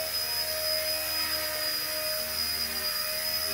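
A small XK K124 EC145 RC helicopter flying indoors gives a steady, high-pitched electric whine with a constant rotor hum, close and unchanging throughout.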